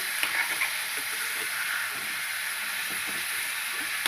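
Tomatoes frying in oil for a green chilli chutney, a steady close sizzle and hiss that runs unbroken, with faint stirring scrapes and no talk.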